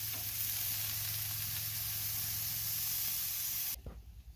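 A grass-fed steak sizzles on a hot grill as it is flipped, a loud steady hiss of fat and searing meat close by that cuts off abruptly, leaving a few soft thumps.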